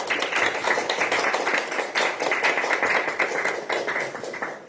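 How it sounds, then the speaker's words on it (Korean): Applause at a Korean election campaign rally for a district head candidate, a crowd clapping steadily and fairly close, with sharp individual claps standing out across the whole stretch. "여기 계신 분들께 이동현 후보를 응원하는 박수를 부탁드립니다"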